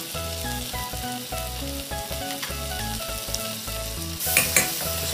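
Onions, ginger and garlic fry in a pan for a kimchi pork dish, giving a steady, close sizzle with soft stirring scrapes over faint background music. The frying swells briefly near the end.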